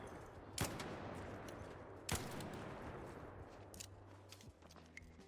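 Several sharp gunshots crack out in the video game Arc Raiders over a steady low rumble, spaced irregularly with a louder burst near the start and another a couple of seconds later.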